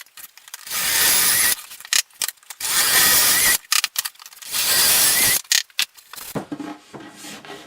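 Kreg square-head screws driven with a drill and the square-drive bit from the kit, heard as three long, loud whirring bursts of about a second each, separated by short pauses and brief clicks.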